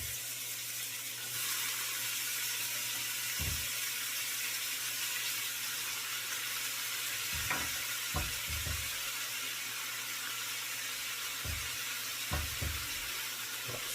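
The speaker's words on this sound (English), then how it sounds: "we're going to start putting our vegetables in here and letting those saute" Vegetables and jalapenos for Manhattan clam chowder begin sautéing in a pot, a soft, even hiss that starts abruptly and carries on faintly, broken by a few light knocks and scrapes.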